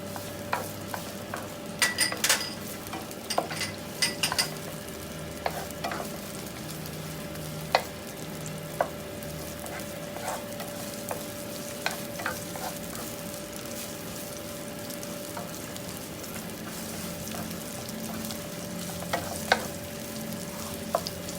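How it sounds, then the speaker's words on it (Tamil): Mustard seeds fry and sizzle in hot oil in a pan while being stirred, for a Tamil drumstick-leaf (murunga keerai) stir-fry. The steady faint crackle sits under sharp scattered pops and the scrape of stirring. No one speaks. "அதோடு சேர்த்து நாங்கள் கடுகை போட்டுக்கொள்வோம்."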